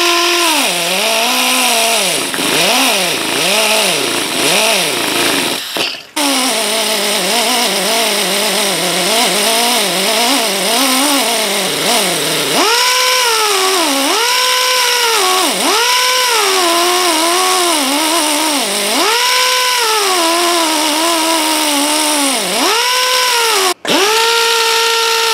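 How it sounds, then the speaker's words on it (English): A die grinder whines continuously while shaping the wooden neck of a Martin D-16 guitar, its pitch rising and dipping repeatedly as pressure changes against the wood, loud and close throughout. "So taking that die grinder again,"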